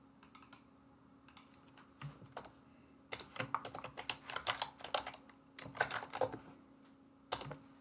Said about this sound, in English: we'll type in the justification